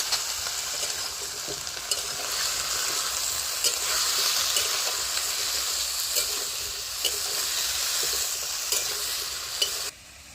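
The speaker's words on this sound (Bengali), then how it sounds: "আর হলুদ দিয়ে ভালো করে আমি ফুলকপি আলুটা কষে নেব।" Cauliflower and potato frying in a pan with salt and turmeric for khichuri, a steady close sizzle broken by repeated scraping stirs, ending with a brief drop in level near the end.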